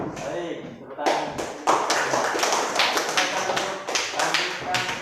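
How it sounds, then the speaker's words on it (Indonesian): Classroom hand clapping during a lesson: a group claps in rhythmic bursts of sharp, evenly spaced claps, with voices talking over them. "Baik, tepuk tangan."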